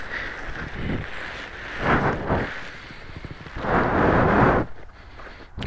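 Wind gusts buffet the microphone during a paramotor launch on the ground, rising and falling in loud whooshing bursts around the two- and four-second marks before easing off.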